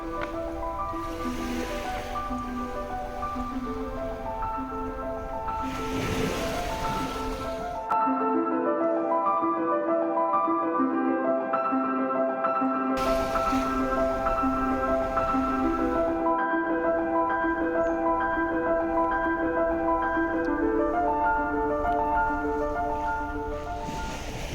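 Ocean waves on a beach in Goa wash against the soil shoreline in a steady, continuous surf roar at close range, with no one talking.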